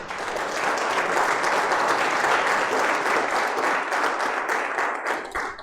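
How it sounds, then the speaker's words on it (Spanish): A church congregation applauds in worship, a dense, steady wash of many hands clapping at full strength for about six seconds, fading slightly at the very end. "Denle un fuerte aplauso al Señor."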